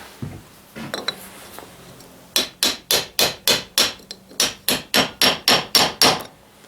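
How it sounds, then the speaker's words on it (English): A hammer drives a wheel bearing into a Ford 800 tractor wheel hub. After a few scattered light knocks come about a dozen sharp, evenly spaced metallic blows, loud and close. "We don't even need to hammer it in apparently still."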